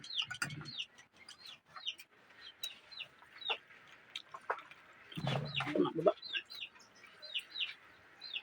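Chickens cluck and chirp repeatedly nearby, with scattered high calls throughout and a louder burst of clucking midway.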